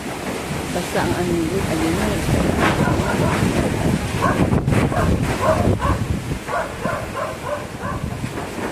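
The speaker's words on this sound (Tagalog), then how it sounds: "Malakas talaga ang hangin." Strong, gusty typhoon wind in Iloilo City, Philippines roars and buffets the microphone without letup, with a rushing broadband noise and faint voices partly buried beneath it.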